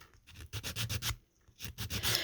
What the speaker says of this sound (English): you keep sanding until it gets to the point that you like it